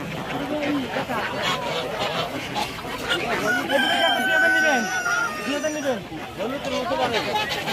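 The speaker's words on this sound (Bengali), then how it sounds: "আর এই যে মুরগি আছে একটা, কত রাখবেন?" Native chickens at a busy livestock market cluck and cackle continuously, and a rooster crows in the middle, all amid loud crowd chatter and people talking nearby.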